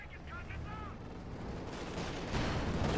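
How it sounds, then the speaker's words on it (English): A Calliope rocket artillery barrage in Company of Heroes 2 builds into a dense, rumbling roar of launches and blasts that grows louder toward the end, with battlefield noise underneath. "Calliope holding back. Calliope going to fire."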